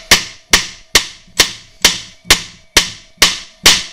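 A hammer taps a bolt out of a Honda rear wheel with nine sharp, ringing metallic strikes. They come in an even rhythm about half a second apart, close and loud, each decaying quickly.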